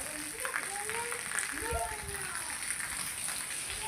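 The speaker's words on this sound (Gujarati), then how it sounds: "વરસાદ આવ્યો" Steady rain patters on a surface with a constant soft hiss while voices talk over it.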